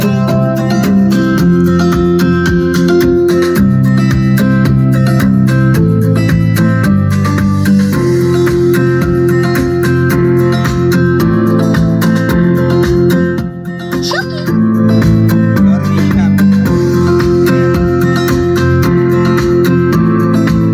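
Music plays loudly and continuously through a Kicker CSC65 coaxial car speaker in a side-by-side comparison, a full mix with steady bass and changing tonal notes throughout.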